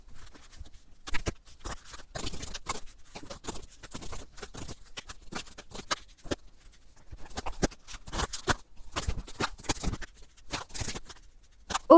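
Tarot cards being shuffled and drawn during a new-moon reading, giving a steady run of soft, close riffling and flicking sounds with short bursts and pauses, with no talking.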